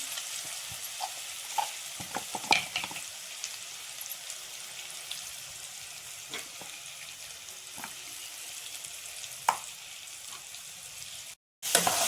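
A spiced paste (vatan) for vada pav fries in a pan, a soft steady sizzle with occasional crackles and stirring taps, faint and close.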